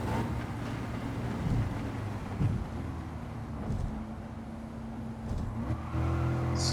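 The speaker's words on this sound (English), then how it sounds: "The GTR is very, very fast. I love that car." Nissan GT-R race car engine in Gran Turismo 7 on the Tokyo Expressway, a steady loud drone that swells and revs through gear changes, continuous throughout with no talk.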